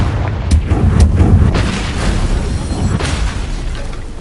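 A Confringo fire spell blasts in the Hogwarts Legacy video game, a loud booming explosion with several sharp bursts over a continuous rumbling roar, ending without speech.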